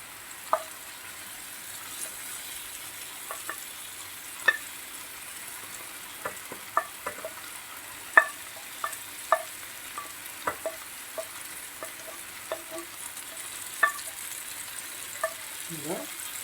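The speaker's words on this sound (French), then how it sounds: "On peut tout mélanger maintenant." Courgette and vegetables for a ratatouille tart being stirred as they fry in a pan, a faint low sizzle punctuated by scattered light clicks and scrapes of a utensil, quiet and steady throughout.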